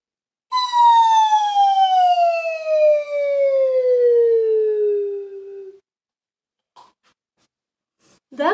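A slide whistle plays one long, loud, smooth downward glide lasting about five seconds, then stops, followed by a few faint short taps.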